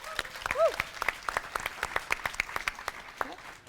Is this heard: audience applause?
yes